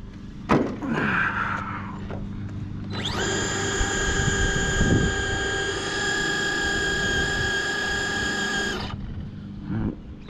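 A stock Associated DR10 RC drag car does a burnout outdoors, its electric motor rising into a loud steady high whine for about six seconds over wind noise, framed by faint knocks and handling sounds.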